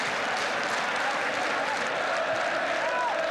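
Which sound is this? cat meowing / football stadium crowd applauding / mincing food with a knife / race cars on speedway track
football stadium crowd applauding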